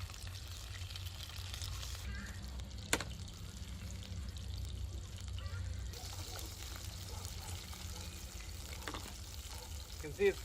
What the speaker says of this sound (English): I'm just frying some beef burgers for supper.